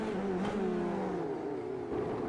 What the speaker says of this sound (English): Listen to the onboard sound of the car.